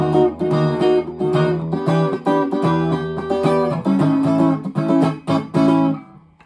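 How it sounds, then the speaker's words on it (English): Rhythmic strummed chords with muted, choppy strokes and short percussive gaps, played steadily and fairly loud with no voices. "it should sound something like this when you actually do the strumming and the muting"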